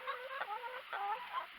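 Chickens clucking softly nearby in short, repeated calls, a few overlapping clucks with no talking.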